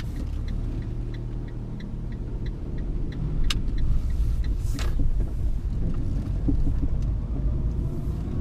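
A Fiat 500 Pop with Dualogic gearbox pulls away in automatic mode, its engine a steady low rumble building gently from inside the cabin, with faint ticking and a brief whoosh partway through.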